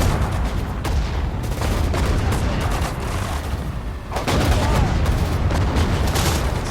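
Dense battle din from Sudden Strike 4, a real-time strategy game, with artillery guns and mortar rounds firing in a near-continuous loud barrage of booms and cracks that swells again in the final seconds.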